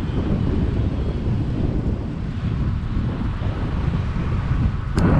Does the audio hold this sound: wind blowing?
yes